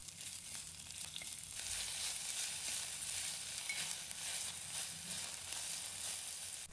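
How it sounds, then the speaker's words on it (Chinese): Onions frying in hot cooking oil in a clay pot, a dense, even hiss of sizzling with faint stirring scrapes, steady throughout and close, with no talk. "倒入食用油，把油烧热，倒入洋葱，"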